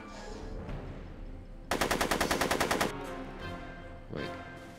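Rapid automatic gunfire from Back to the Future: The Game rattles out in a dense burst of about a dozen evenly spaced shots lasting just over a second, loud against a quieter game backdrop.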